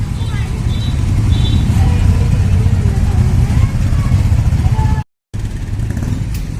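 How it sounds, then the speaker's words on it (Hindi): A stream of motorcycles rides past along a residential street, a steady, loud engine drone with rising revs that continues throughout as people talk nearby. "कितनी सारी बाइक आ रही है भाई।"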